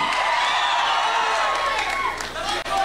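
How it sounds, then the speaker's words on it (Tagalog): An audience at a large live event bursts into loud applause mixed with shouting and cheering, a dense, sustained roar of many voices and hands close by. "Palakpakan na may sigawan!"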